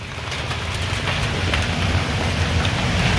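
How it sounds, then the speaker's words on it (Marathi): Heavy rain pours steadily over open farmland in hot, stormy weather, a dense continuous hiss of downpour with a low rumble underneath, loud and unbroken throughout. "पाऊस बघा इतका खतरनाक चालू झाला, भयंकर एकदम जोरात स्पीड पकडला आता"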